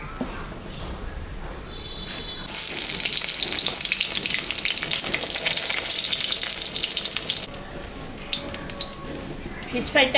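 A piece of fish dipped in gram flour and coated in biscuit crumbs hits hot oil for a crispy fish fry. A loud hiss bursts in suddenly, holds steady for several seconds, then dies down to quiet kitchen noise.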